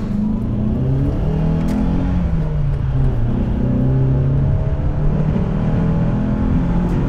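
A Mercedes W201 190E 2.3 16V Cosworth engine revs hard and close, its loud droning note rising and falling in sustained sweeps with no pauses.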